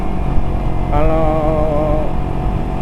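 A Kawasaki Ninja 250 carburetor motorcycle engine drones loudly and steadily while riding, and a brief rising tone marks a quick overtaking maneuver before settling back to a constant roar.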